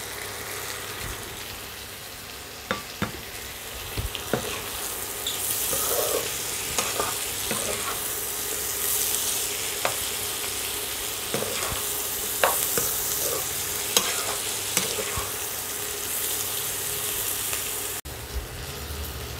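Chopped onion and green chili stir-fry in a pan with partly cooked vegetables, giving a loud steady sizzle broken by sharp scraping stirs of a spatula, close up and without talking.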